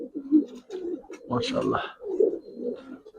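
Pet Giribaz pigeons coo in soft, rolling bursts close by while someone talks over them throughout.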